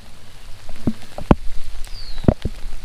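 Light rain patters outdoors at a fishing bank during a lightning storm with a soft hiss, punctuated by a few louder, distinct drops or splashes nearby.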